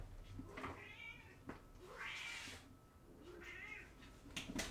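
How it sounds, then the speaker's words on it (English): A pet cat meowing indoors, several drawn-out, insistent meows spaced a second or two apart, close and moderately loud over a low background hum. "What, Kitty? Why are you meowing?"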